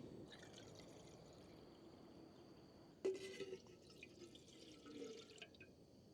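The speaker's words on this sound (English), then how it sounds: "Just enough water to fill the flask." Water pours into a camping flask outdoors, a faint trickle and splash starting midway and running in short bursts over a quiet background.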